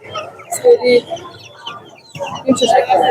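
Chickens and ducks cluck and squawk close by at a busy village poultry market, with people talking over and around the birds.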